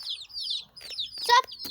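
Chickens cluck and chirp in a home garden among marigold and periwinkle plants, several short calls in quick succession at moderate distance, with a louder burst near the end.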